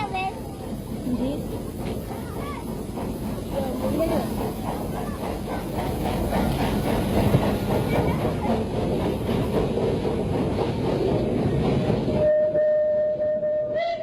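The Surabaya steam tram rolling along rails with rhythmic clatter and rumble, growing louder midway, ending with a sustained whistle tone as the rumble drops away.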